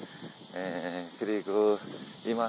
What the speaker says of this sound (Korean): 무슨소리가들리죠예그세미매미소리가들리고있네요